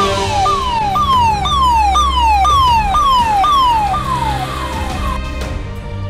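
Fire engine siren arriving at a burning Royal Enfield Bullet motorcycle on Chennai Beach Road, a loud repeating falling wail cycling about every half second with steady traffic rumble underneath, fading slightly toward the end.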